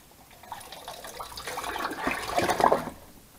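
A metal tank is lowered and flipped into a bath of Bilt Hamber Deox C rust remover liquid, giving a sloshing, gurgling pour of liquid that swells over a few seconds and then settles.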